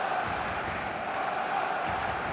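Stadium crowd murmur at an eFootball match, a steady, dense buzz of many distant voices that holds evenly throughout with no clear cheers standing out.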